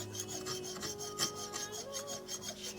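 A knife blade drawn across a 10,000 grit whetstone, making soft, steady rasping strokes in a repeating rhythm, close and fairly quiet with no voices.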